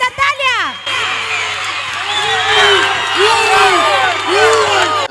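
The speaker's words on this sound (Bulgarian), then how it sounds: "А те освиркват водещата" Large crowd at a beauty pageant whistling and booing at the host, loud sustained jeers with sharp piercing whistles rising over a steady hum, voices shouting throughout.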